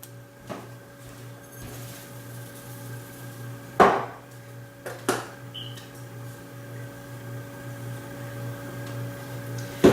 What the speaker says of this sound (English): we're gonna put it back into the oven on a broil again